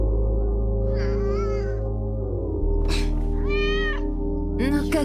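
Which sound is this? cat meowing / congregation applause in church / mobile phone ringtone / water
cat meowing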